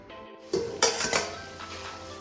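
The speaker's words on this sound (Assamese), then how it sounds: "ঢাকনাখন লগাই দিম" A lid set onto a cooking pot of curry simmering on a medium flame, with a few close, sharp metallic clinks and clatters, then a soft rattle settling away.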